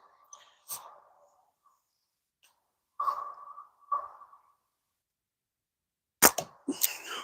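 Shots fired into an AliExpress catch box target land as sharp, separate impacts, two or three spread across the span with pauses between, followed by a louder cluster of cracks near the end, fairly close and with no talk.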